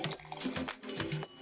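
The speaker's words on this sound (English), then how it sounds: "I'll pour the vinegar into the soda bottle." Vinegar pours into a soda bottle with a quiet, gurgling liquid trickle that rises and falls unevenly, heard close up with no talking.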